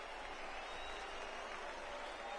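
Steady stadium crowd murmur from a baseball video game, MLB The Show 19, a continuous broadband roar of fans at a moderate distance with no individual cheers standing out.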